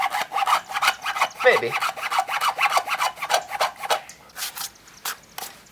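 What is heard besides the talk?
handsaw cutting Miata cold air intake pipe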